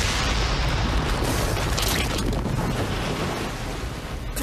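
A missile is fired and explodes in an animated action show: a loud, sustained rumbling blast roars close up with no speech over it.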